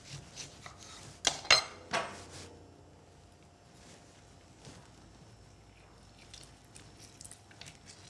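A knife cuts a green apple into small cubes on a board, making a few sharp chopping knocks close up, then sparse, faint taps and scrapes.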